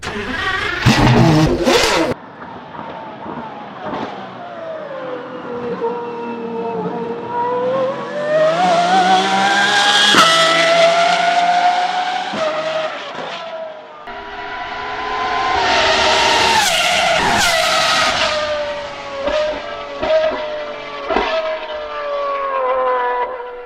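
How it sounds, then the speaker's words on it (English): Pagani Imola Roadster hypercar, a road version of the track-only Huayra R, roars past loudly, its engine climbing through revs in two long surging pulls with sharp gearshift breaks, fading and returning with no talk over it. "the first Pagani Imola Roadster in the world to be delivered. It's a road version of the Hyra R, which is for track only, and it sounds incredible."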